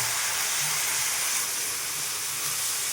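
Onions, garlic and chopped vegetables such as pumpkin, potato and Malabar spinach sizzle in hot oil in a pan, a steady, close hiss that holds without a break throughout.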